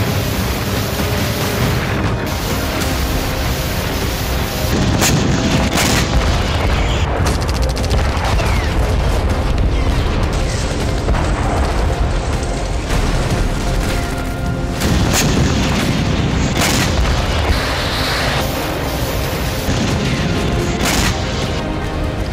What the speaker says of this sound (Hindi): रूस ने 4 KH-47M2 किंजल हाइपरसोनिक मिसाइल से भी प्रहार किया।